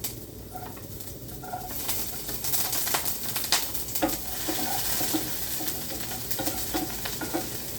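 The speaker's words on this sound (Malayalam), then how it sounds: "അപ്പം നമുക്ക് വെളുത്തുള്ളി ഇട്ട് കൊടുക്കാം" Chopped garlic hitting a hot pan in a home kitchen sets off a steady, close sizzle with scattered crackles and spatter, while bird coos sound faintly in the background.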